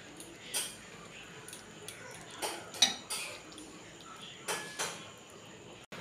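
A pot of rice set on to cook in a home kitchen, with scattered metallic clanks and clinks of the pot and lid at irregular intervals over quiet room noise.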